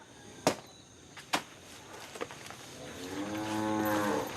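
A cow on a small banana farm in the Philippines lets out one long, fairly close moo near the end, after a few sharp knocks and thuds.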